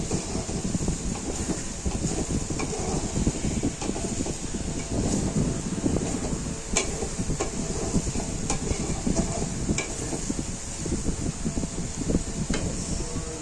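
Spices being sautéed in a pan for fish curry, a continuous dense sizzle and stirring scrape with occasional sharp clicks, close and steady with no voices.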